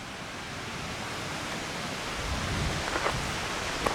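The Masarè waterfall near Alleghe in the Dolomites rushes with a steady, broadband roar of falling water that holds even throughout, with a few faint clicks near the end and no voices.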